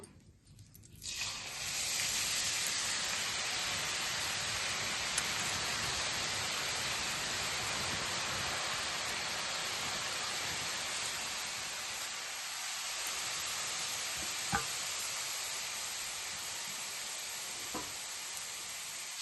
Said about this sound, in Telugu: స్టవ్ వెలిగించుకుని ఆయిల్ పెట్టుకున్నాను. ఆయిల్ అయితే వేడయింది. ఇప్పుడు మనం కారపూస వేసుకుందాము.